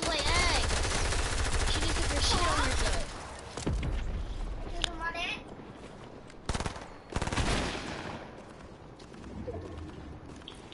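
Video game gunfire, dense rapid bursts of automatic weapons firing close and loud at first, then scattered shots and shorter volleys, with game sounds and chatter mixed in.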